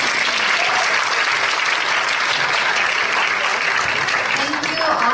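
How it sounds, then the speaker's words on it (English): Audience applause at a startup demo day event, loud, dense and sustained throughout with steady clapping from a large crowd, no speech over it. "when I say clap, just clap only one time. So, clap."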